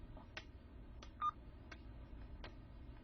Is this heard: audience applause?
no